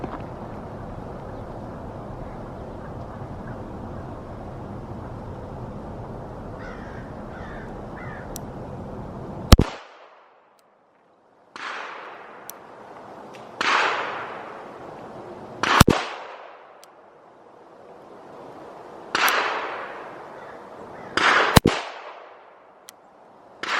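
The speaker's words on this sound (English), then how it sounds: "I'm just gonna fire some rounds out of each one" Colt Cobra .38 snub-nosed revolver fired outdoors, a low steady hum, then five sharp loud shots spaced a few seconds apart, each trailing off in a short echo.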